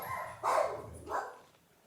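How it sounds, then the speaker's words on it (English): Dogs bark indoors, two fairly loud barks about half a second apart that then fade into quiet room sound. "the dogs took off barking"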